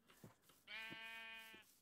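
Colourful sheep in a Minecraft Craft Attack world give one clear, sustained bleat, close and alone, with soft footsteps or game sounds around it.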